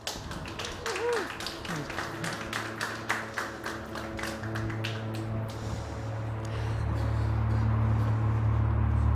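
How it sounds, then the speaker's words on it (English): A conference audience at ETHBarcelona claps for a speaker. The applause is dense and steady for several seconds, then fades out and leaves a low hum in the hall. "So everyone give a round of applause for Martín Abatemarco."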